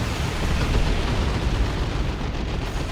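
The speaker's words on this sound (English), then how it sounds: "Tank Buster Barrage doing absolutely insane damage to that Dreadnought." Dense, continuous roar of artillery-style explosions pounding a Dreadnought walker during a Dawn of War 2 3v3 battle, a loud rumbling barrage with no gaps for about three seconds.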